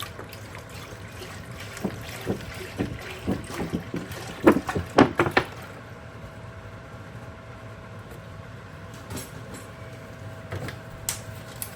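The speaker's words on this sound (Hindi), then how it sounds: "तो खीर के लिए माशाल्लाह से दूध डालेंगे।" Milk is poured into a pot for kheer, a trickling liquid stream with clinks and splashes building around the middle, then settling into a quieter background hum with occasional faint clicks.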